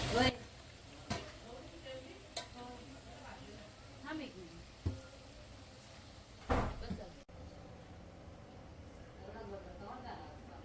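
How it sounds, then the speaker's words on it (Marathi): Puris deep-frying in hot oil in a home kitchen give a soft, continuous sizzle, broken by occasional sharp clanks of utensils, while someone talks over it. "इकडे मस्त पुरं तळायला घेतलेल्या आहेत बहिणीने"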